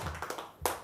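A worship audience gives a brief, scattered burst of hand clapping for Jesus, a few close sharp claps ending in a louder cluster.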